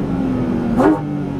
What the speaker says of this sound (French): c'est le son du moteur, enfin de l'admission plus exactement.